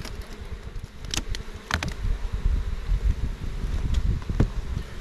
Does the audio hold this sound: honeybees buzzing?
yes